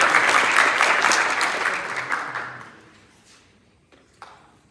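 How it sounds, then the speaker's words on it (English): Audience applause at a school winter sports award assembly, loud crowd clapping that gradually fades to near silence, followed by a couple of faint isolated knocks. "You can do more claps than just 2 words."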